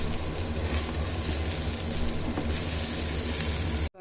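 Raw banana slices fry in a pan with a loud, continuous, close sizzle that holds steady for about four seconds before cutting off abruptly.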